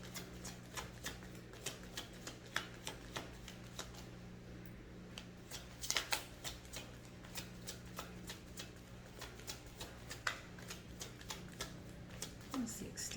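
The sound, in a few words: shuffling a tarot card deck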